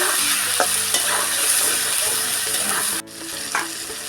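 Turmeric frying in hot oil in a pan for a young jackfruit curry with curd, a loud steady sizzle with spoon strokes, cutting briefly quieter near the end, no voices.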